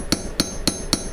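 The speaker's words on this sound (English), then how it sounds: "another metalsmithing hammer" A metalsmithing hammer with a fairly smooth peen strikes silver to texture it during forging, giving four evenly spaced, sharp metallic taps close by with no talk.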